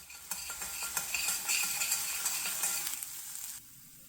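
Spices sizzling and crackling in hot oil over medium heat with a few stirring scrapes, close up, then the sizzle cuts off abruptly.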